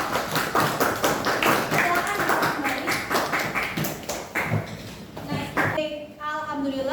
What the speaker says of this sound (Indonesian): Sekali lagi beri tepuk tangan untuk kelompok 1.